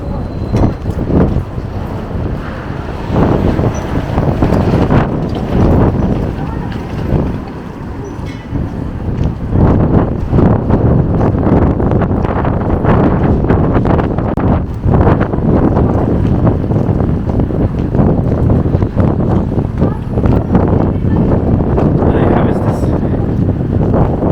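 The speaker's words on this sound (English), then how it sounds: "So it's very windy all of a sudden." Strong wind buffets the microphone in loud, continuous rumbling gusts for the whole stretch, on a city street in Montreal.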